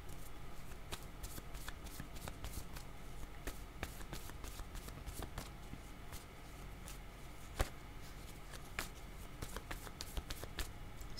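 Tarot cards are shuffled over and over, a steady run of quick papery riffles and slaps that continues unbroken at a low, close level without any voices.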